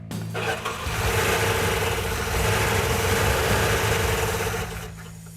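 A 1970 Plymouth Cuda with a 340 V8 cranks and catches, then runs loud and rough at close range for several seconds before the noise drops away at the end.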